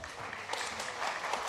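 A church audience at a children's choir concert gives a short, faint round of scattered clapping.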